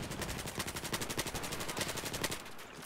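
A suppressed M416 rifle in Battlefield 4 fires rapid automatic bursts, a dense string of muffled, evenly spaced thuds that runs for several seconds before stopping.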